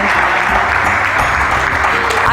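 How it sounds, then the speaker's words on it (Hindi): Dense applause from an audience at a youth national meet in India fills the whole stretch, steady and loud with no pause. "तालियां तो बजाइए"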